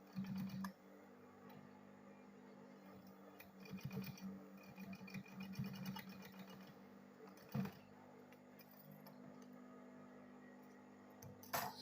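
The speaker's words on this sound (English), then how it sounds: "After sewing it, I will still turn it this way again. Then I will sew it once again." A sewing machine stitches a ladies' backpack bag, giving a faint, steady mechanical whirr in short runs broken by pauses and a few clicks, heard alone without speech.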